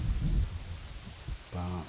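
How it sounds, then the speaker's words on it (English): Steady rain falls in the medieval village of Kingdoms and Castles, a constant hiss with low rumbling underneath and a brief tonal game sound toward the end. "Oh, it's raining again."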